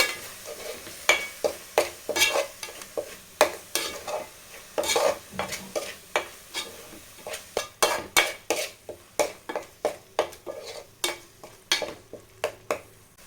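Fish curry masala with ground cumin and fenugreek powder being stirred in hot oil in a pan, a steady run of sharp scraping strokes with a soft sizzle underneath, close and alone.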